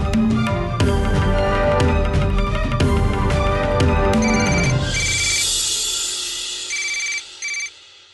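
A telephone rings with a repeated electronic ringtone in an indoor drama scene, the tone pattern continuing over background music before cutting off in short bursts near the end.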